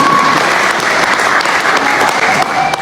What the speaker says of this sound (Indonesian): Mari kita beri aplaus sama-sama.